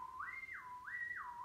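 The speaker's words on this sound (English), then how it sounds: "Stay with the lip posture, the arch of the tongue, which is creating the whistling." A person whistles with the tongue arched, producing a clear, close, sliding tone that rises, holds, falls and repeats twice in smooth swoops.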